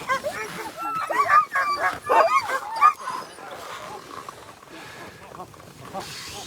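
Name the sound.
sled dogs barking at race checkpoint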